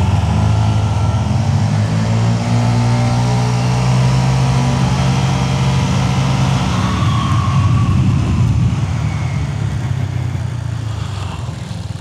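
Vespa GTS 125 and Lambretta X125 scooters accelerate side by side from a standing start, their engines rising in pitch as they pull away, loud and near at first, then settling into a steadier drone.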